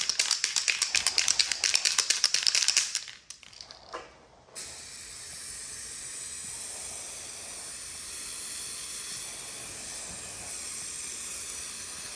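Third coat of spray paint going onto a 2008-2016 F350 Superduty bumper, a loud rapid pulsing hiss of bursts for about three seconds, then a few faint rattles and a steady quieter background hiss.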